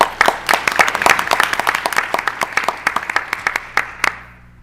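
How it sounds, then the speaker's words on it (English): Applause for a departing member at a county board of education meeting: a round of hand claps with sharp individual claps standing out, fading to a few last claps and then quiet. "let's all give Ms. Mason a round of applause for her great year"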